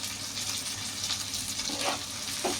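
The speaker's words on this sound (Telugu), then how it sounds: "ఉల్లిపాయలు, పచ్చిమిరకాయలు, రొయ్యలు, కరివేపాకు బాగా వేగాలండి." Onions, green chilies, shrimp and curry leaves fry in a pan for a dry prawn curry, making a steady soft sizzle and crackle with a few louder spits near the end and no talk.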